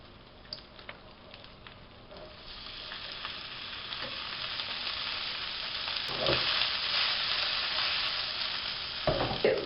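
Millet cutlets fry in oil in a large 30 cm pan, giving a steady, close crackling sizzle that slowly grows louder and busier, with a few brief spatters and scraping stirs near the end and no talking.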